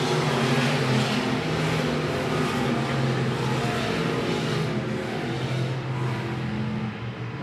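IMCA stock cars racing at I-76 Speedway, a loud, continuous engine roar from the pack that holds steady and eases slightly near the end.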